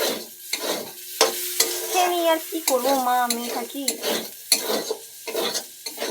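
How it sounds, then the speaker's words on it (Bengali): Potatoes fry in a pan while a spatula stirs and scrapes in repeated strokes, a close sizzle and clatter running under a person talking. "আর এই জন্য আলু ভাজা করছি"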